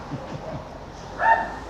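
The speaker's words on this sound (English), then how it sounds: "There's a noisy dog there." A dog barks a few times at a distance outside the Royal Pump Rooms in Leamington Spa, short yaps repeating over steady outdoor background noise, with a louder burst near the end.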